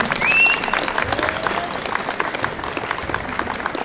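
An audience at a volleyball tournament ceremony claps in a dense, loud burst that starts strongest and then settles into a steady, slightly thinner patter of applause.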